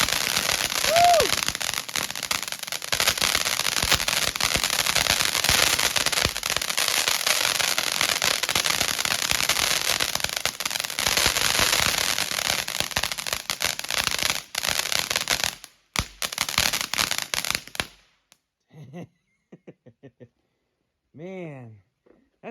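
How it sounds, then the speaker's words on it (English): A crackling firework fountain from a large consumer assortment bursts loudly and continuously with dense snapping crackle for about eighteen seconds, then cuts off, leaving faint scattered crackles and a few distant whistles. "that sounds like a bunch of firecrackers. That is such snappy crackle."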